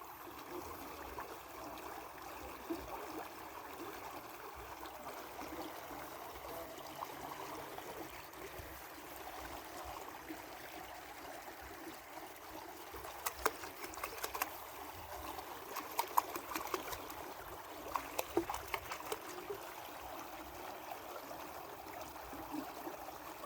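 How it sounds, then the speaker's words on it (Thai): Steady flowing water in a canal among rice fields murmurs continuously with a soft broadband rush, a few brief splashy clicks and gurgles near the middle and end, no voices. "คลองน้ำไหลดูหน่อยนะครับ"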